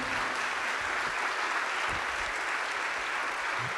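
Audience in a lecture hall applauding a speaker after a talk, a dense, even roar of many hands clapping continuously at moderate volume with no pauses or talk.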